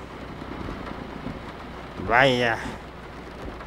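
Steady rain hisses across the whole stretch in the truck-driving game Grand Truck Simulator 2, a constant wash of even noise, with a short spoken exclamation rising over it near the end.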